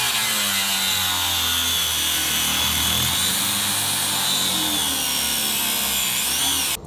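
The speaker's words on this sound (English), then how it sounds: "just so you can actually get your grinder sandwiched around there good enough" An angle grinder cuts through a steel leaf spring on a 2005 Chevy Colorado, a loud continuous high-pitched grinding whine with shifting pitch as the disc bites, close by and uninterrupted until it stops abruptly.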